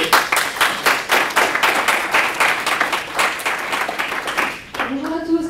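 Loud, fast clapping from a seated audience welcoming a speaker at a talk, dense and rhythmic for several seconds before fading, then a voice begins speaking at the end.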